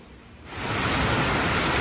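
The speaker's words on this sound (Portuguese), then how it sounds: "olha essa chuva que tá caindo pós-almoço" Heavy rain falls after lunch on a Mother's Day at home, starting quietly and then swelling within half a second into a loud, steady, hissing downpour.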